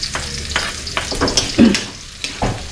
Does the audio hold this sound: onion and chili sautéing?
yes